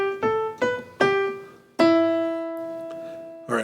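A few plucked guitar notes of a song ring out one at a time in a slow melody ending on G then E, the last note sustaining before another pluck.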